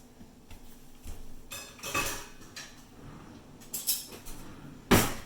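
A metal spoon knocks and clinks among greased metal muffin tins in a home kitchen, with a few sharp scattered rattles and one louder clatter near the end.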